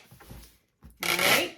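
Packing tape is pulled and pressed over cardboard wrapping a painting: a brief soft rub, a pause, then a loud ripping stretch of tape, close by.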